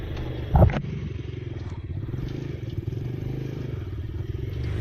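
A 125cc Venom X22 motorcycle, a 2018 model, gives a steady close engine drone with a brief louder burst near the start as it pulls away downhill, holding an even note throughout without any talk.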